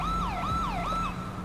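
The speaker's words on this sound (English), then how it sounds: "Turn off your siren," Police car siren in the video game GTA 5, a loud continuous wailing tone sweeping up and down in repeated cycles, close and steady over low engine rumble, with no talk.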